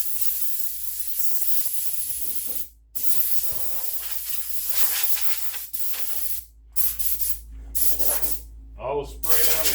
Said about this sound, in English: I will spray down the tools.